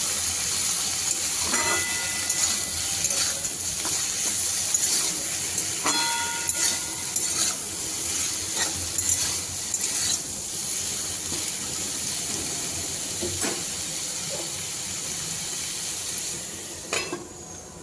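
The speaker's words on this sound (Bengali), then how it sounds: "সবজিগুলো খুব ভালো মতো ভেজে নিয়েছি" Vegetables and spices fry in a pan for a rasam-style fish curry with brinjal, potato and drumstick, a continuous close sizzle broken by several sharp clinks and scrapes of stirring.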